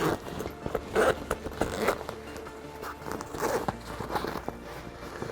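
Short rasping zipper pulls in several bursts on a backpack's expansion zipper, close by, mixed with light fabric rustling and handling noises.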